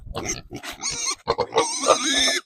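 A pig grunts and squeals loudly at close range in a rapid, uneven series of snorts and higher-pitched squeals.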